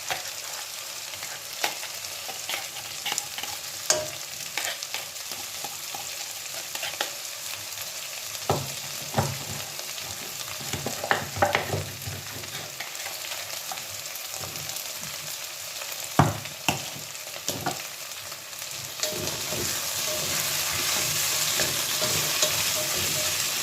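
Tomato sizzling and frying in a pan, stirred with a utensil at close range, with steady hot crackle and intermittent scraping stirs throughout and no talking.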